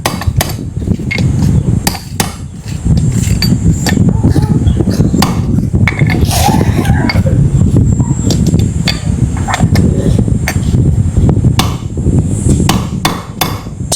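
A socket extension is pounded with a hammer to seat the rear axle bearing on a Mio i 125 scooter. Sharp, close metallic strikes land in a fast, steady series for the whole stretch.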